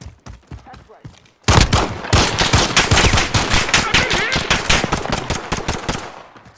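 Loud sustained automatic gunfire in the shooter game Call of Duty Modern Warfare, a dense rapid burst of shots lasting several seconds after a brief quieter lead-in.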